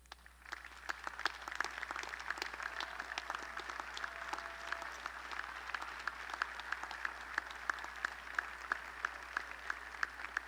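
Audience applause at a December 2017 university commencement ceremony for the College of Fine Arts and Communication, as parents of graduates stand; distinct, fairly sparse claps ring out in a large hall, quiet and steady throughout, with no speech.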